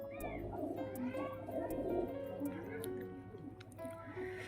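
Pet pigeon cooing in short soft repeated phrases, close but faint, under a person talking.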